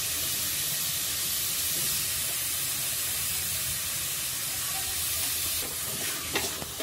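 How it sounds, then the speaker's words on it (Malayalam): Chopped banana stem frying and being stirred in a pan for a stir-fry, giving a steady close sizzle and hiss with a few scraping stirs near the end, with no talking. "നന്നായിട്ട് വഴറ്റുക."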